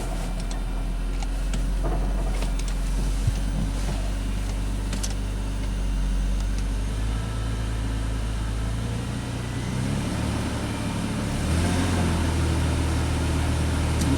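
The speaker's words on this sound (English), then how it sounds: "It was a very, very slight misfire." A BMW X5 engine idles steadily with a very slight misfire, a low continuous hum with faint irregular ticks, shifting pitch partway through as if revved lightly.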